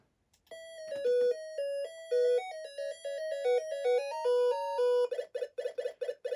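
Bright electronic chiptune beeps from Ms. Pac-Man on the Atari 2600 play a bouncy melody, then a quick run of short repeated pill-eating blips in a steady rhythm, clear and alone.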